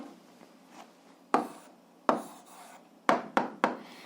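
A pen writes an answer in a notebook, producing a series of sharp, close scratchy strokes in irregular bursts, with short pauses in between.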